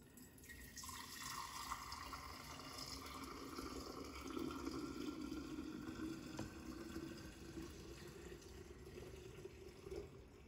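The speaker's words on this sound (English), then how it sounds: "we're just going to very carefully pour this in our half gallon mason jar" Homemade golden bone broth with a few herbs poured carefully into a half-gallon mason jar, a steady continuous liquid pour with a rising tone as the jar fills, close and alone.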